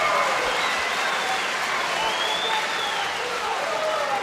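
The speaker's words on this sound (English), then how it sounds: "This crowd going wild" A fight-night crowd at a Cage 54 event roars and cheers after a big slam takedown, a dense, steady wall of loud cheering and clapping that holds across the whole stretch, with a commentator talking over it.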